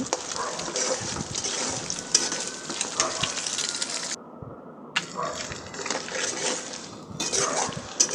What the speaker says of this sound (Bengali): ডিমটাকে একটু ভেজে নিতেছি।